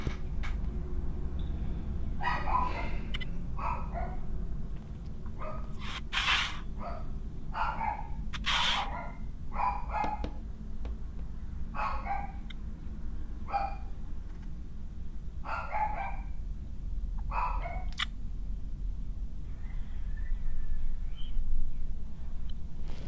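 A dog barks in short, spaced bursts, roughly a dozen sharp yaps at moderate distance over a low steady background hum, with no talking.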